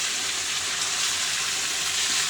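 Water poured into a pan of frying chicken curry, a steady, even rush of hissing noise that holds without a break.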